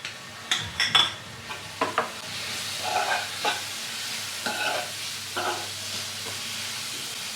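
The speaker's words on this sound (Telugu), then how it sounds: "ఇప్పుడు ఇందులో నేను గ్రేట్ చేసి పెట్టుకున్న క్యారెట్ తీసేసుకుంటాను" Grated carrot frying with softened onions in a pan, a quiet steady sizzle broken by several scattered stirring clatters and scrapes, no voices.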